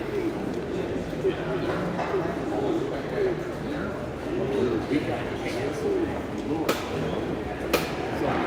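Soft, repeated cooing from pigeons at a national young bird show in Louisville, Kentucky, rising in gentle looping calls amid a noisy hall, with people talking over it.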